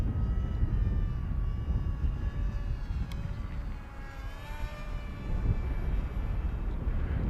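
A ZOHD Talon GT Rebel RC plane drones steadily overhead in a windy, bumpy sky, its motor whine rising and shifting in pitch as it passes, a continuous mid-distance hum over wind rumble.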